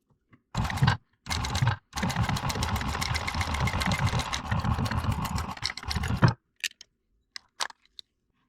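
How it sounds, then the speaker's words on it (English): A sewing machine stitches back and forth across Velcro on a glove clip for a tactical belt in several quick rattling bursts, with short pauses between them, then a few soft clicks, nearby and without talk. "we're just gonna stitch back and forth about 3 times right here"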